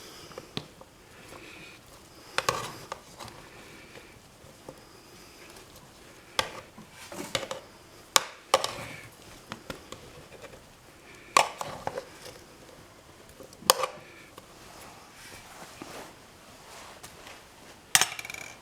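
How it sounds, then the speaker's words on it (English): Meat salad for a WW2-era German Fleischsalat being mixed in a bowl, with scattered clinks and scrapes of utensils against the dish in irregular bursts over quiet background, no talking. "mix this up a bit before I do the dressing for this"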